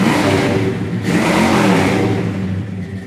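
A 1970 Oldsmobile Cutlass 442 tribute with a 455 big-block V8 revs loud and close, its engine note rising and falling in a couple of throttle blips over a steady rumble, with no talking.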